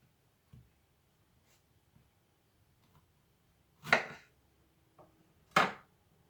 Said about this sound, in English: Just cut the top off of the strawberry, slice them in half.